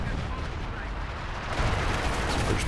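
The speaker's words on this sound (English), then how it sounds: "Base artillery come down." Base artillery shells pounding down in Company of Heroes 2, a dense, continuous roar of rumbling blasts that grows heavier halfway through, with a commentator's voice mixed in.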